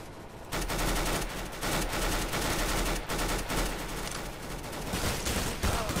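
Rapid Counter-Strike video game gunfire fills the stretch, dense bursts of automatic shots overlapping into a continuous loud barrage with brief dips, no talking over it.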